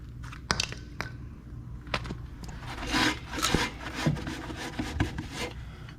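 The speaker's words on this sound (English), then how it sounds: "So now I can dig that broken piece of shackle out of there." Metal scraping and rasping comes from a broken leaf spring shackle piece being dug out of a Chevrolet Silverado or GMC Sierra truck, with close gritty rubbing strokes and several sharp knocks and clinks throughout.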